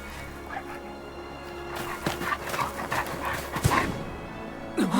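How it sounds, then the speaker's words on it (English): A giant dog-like creature in the fantasy video game Visions of Mana gives deep, gruff calls and panting sounds over a steady ambient game music bed, with a louder growl near the end. "That is a giant dog."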